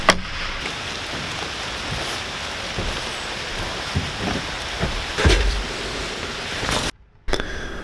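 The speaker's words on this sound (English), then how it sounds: "Working in the rain, that's what it's all about." Steady rain falling on an outdoor building site where a house is framed from timber, a dense even hiss with scattered heavier drops and knocks, broken by a brief cut near the end.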